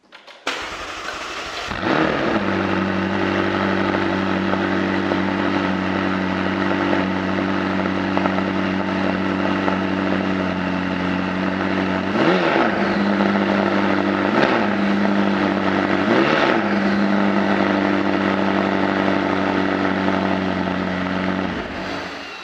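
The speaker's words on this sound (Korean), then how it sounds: "제가 한번 배기 사운드를 들려드리겠습니다" A loud McLaren 600LT exhaust idling with a deep burble, then three sharp revs flaring up and dropping back, close by and continuous, no talking.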